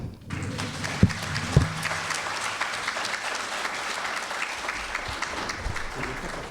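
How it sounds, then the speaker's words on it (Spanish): An audience applauds to welcome lecturer Dr. Arturo Menchaca at a keynote conference, with a steady roar of many hands clapping and a couple of loud thumps near the start. "para quien pido un gran aplauso"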